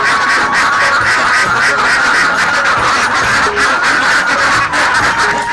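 Hundreds of ducks on a pond farm that raises ducks and fish together quack loudly as they are fed, forming a dense, continuous chorus.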